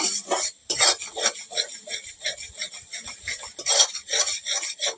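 Grated mango pulp being stirred continuously in a hot wok, a scraping, rubbing rhythm of utensil against the metal pan, close and moderately loud, with no talking.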